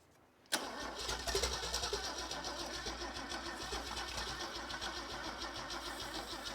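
An abandoned Holden engine cranks over on battery power without catching: a steady, rhythmic mechanical churn, close and loud, running unbroken after a sudden start.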